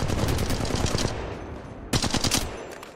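Rapid bursts of automatic gunfire from Apex Legends Mobile ranked play, a loud dense volley for about a second, a short lull, then a second burst of rapid shots.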